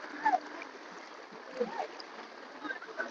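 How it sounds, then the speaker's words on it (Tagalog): Strong river current rushing and splashing around people wading across, a steady broadband wash of water with brief louder splashes, heard up close. "Malakas yung agos pupunta rito. Hirap tayo tumawid ah. Ayan oh, mga tubig na galing sa taas."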